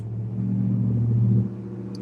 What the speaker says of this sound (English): I summoned all the loud cars for the interview just for you.